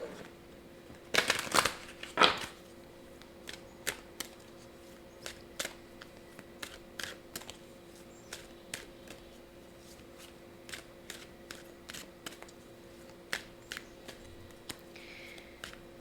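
Tarot-style activation cards are shuffled by hand, beginning with a louder riffle burst and then a long run of soft, sharp card snaps and ticks at an irregular pace in a quiet room.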